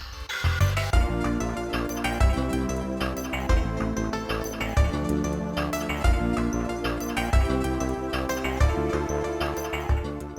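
Busy looping Donkey Kong Country 2 mine level music with metallic clanking percussion, a steady bass synth pulse and bright tinkling layers, playing continuously at a moderate level.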